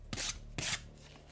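Sandpaper scrubbing 3D-printed brown filament pews, two quick close rasping strokes, each a brief hiss with a short pause between.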